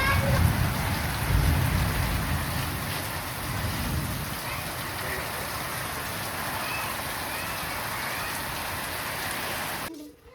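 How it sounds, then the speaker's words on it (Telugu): Heavy rain pours steadily with gusting wind, a dense continuous hiss that is loud at first and eases slightly before cutting off abruptly at the end; no voices. "వాన అయితే ఫుల్గా పడిపోయిందండి"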